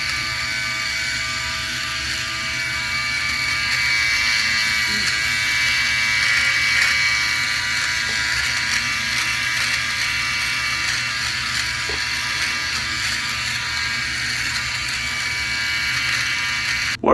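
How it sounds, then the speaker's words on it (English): Close, steady buzz of a Philips OneBlade electric razor shaving around the lips, a continuous high whirring hum with slight wavering in loudness and no talking. "What other device is gonna let you shave your lips with confidence that you're not gonna shave them off?"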